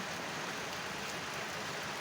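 Steady rain pours down in a dense, even hiss that fills the whole stretch with no gaps, close and moderately loud, with no voices heard.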